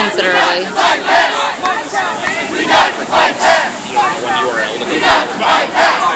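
Protest crowd on a Ferguson street, many voices chanting and shouting in loud, surging rhythmic waves, close and continuous.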